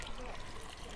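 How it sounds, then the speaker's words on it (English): Buxton spring water flowing from St Anne's Well, a faint continuous trickle and splash heard close by for a moment. "this is the spring water that comes out"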